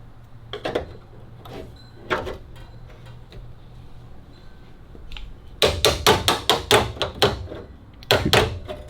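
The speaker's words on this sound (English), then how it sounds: "Trusty hammer." Hammer blows shaping a sheet-metal patch on the body of a 1974 VW Beetle under restoration: a few scattered sharp metallic strikes, then a rapid run of loud close hits, a pause, and two more blows.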